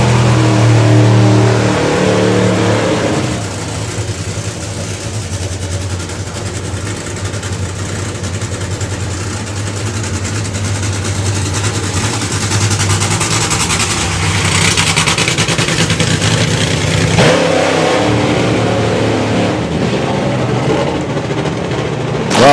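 Drag racing car engine at Santa Pod Raceway revving loud and sustained with a sticking throttle after a burnout, a heavy low roar that holds steady, dips briefly around the middle, then surges again.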